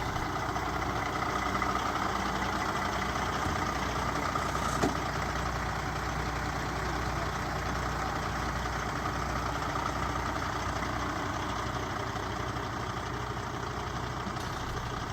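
A truck engine idles steadily throughout, a continuous low rumble close by with no talking.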